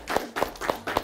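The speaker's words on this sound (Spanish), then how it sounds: "¡Un aplauso para él, por favor!" Four quick bursts of clapping, evenly spaced and fairly close, a brief round of applause for a male guest on a talk show, with no speech over it.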